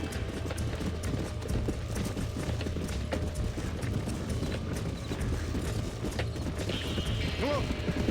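A horse gallops in the Red Dead Redemption video game, its hooves a fast, continuous clip-clop close by under dense game sound, with a brief whinny near the end.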